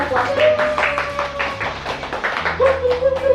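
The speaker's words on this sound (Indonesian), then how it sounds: "Oke, kita tepuk tangan untuk kita berdua" Two people clap their hands in a series of quick, close claps, with tones and voices mixed over them.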